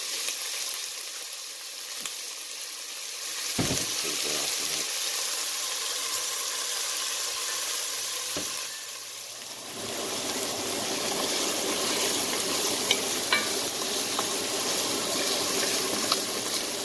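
Hamburger meat sautéing in a pan with a little oil, a constant close frying sizzle with a few utensil knocks, the sizzle swelling louder in the second half.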